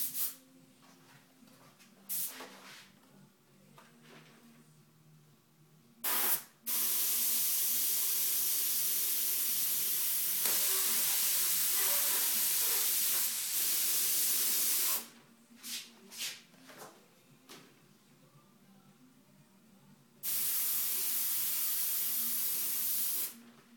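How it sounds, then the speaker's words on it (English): An airbrush sprays black paint onto a ripped-fire custom paint panel, giving two long, steady hisses of about eight and four seconds, separated by quieter stretches of faint clicks and handling noises. "I'm having to add a little bit more black here to my airbrush to"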